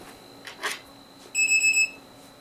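A coin-operated TV timer gives a quick run of four high electronic beeps, loud and close, after a few soft clicks and taps.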